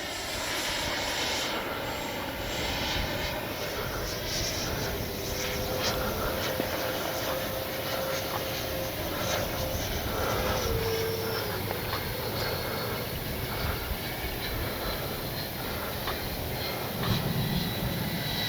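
A Freewing Red Hawk T1 70mm electric ducted-fan RC jet flies overhead with a steady, loud whooshing whine, its pitch shifting slightly as it passes, over continuous outdoor wind noise.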